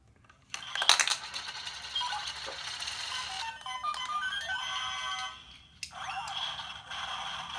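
A toy motorcycle's electronic transformation effect: a sharp metallic burst followed by a run of bright whirring, chiming mechanical tones, close and fairly loud, with no talking.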